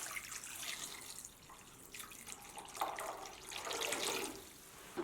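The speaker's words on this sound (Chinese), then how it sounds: "倒入1大碗的清水" Clear water pours from a tap into a bowl of raw chestnuts being washed, giving a steady close splashing and trickling wash that swells louder toward the end, with no talk.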